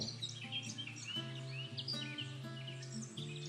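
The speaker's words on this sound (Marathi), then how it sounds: "पक्ष्यांचा चिवचिवाट" Birds chirp and tweet brightly over a soft, sustained instrumental background.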